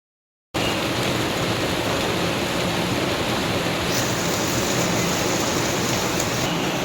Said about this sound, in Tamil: மழை சட சட சடான்னு வர ஆரம்பிச்சிருச்சு.